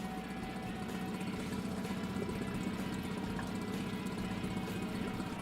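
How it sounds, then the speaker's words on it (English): A Honda portable outboard motor idles at low speed during warm-up, a steady, even mid-low engine drone that runs close and unbroken throughout with no voices. "Start the engine and let it run at low speed for at least 10 minutes to allow the engine to warm up"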